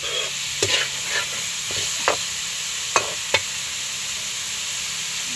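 Pancit canton noodles stirred in a frying pan over a steady sizzle, with a few sharp scraping clacks of the utensil against the pan, close and without talk.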